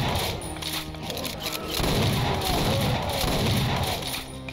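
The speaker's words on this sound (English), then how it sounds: "it's a lever action shotgun" In Doom 2, a lever action shotgun fires loud blasts with booming low impacts, mixed with a heavier barrage of game gunfire and explosions that swells in the second half.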